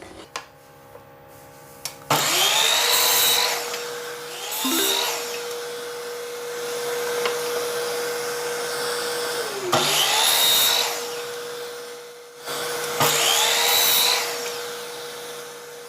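The circular saw of a 2-in-1 power tool whines at a steady pitch while its blade bites into wood, cutting handle pieces for a wooden tray, in several loud, rasping cutting passes, close by.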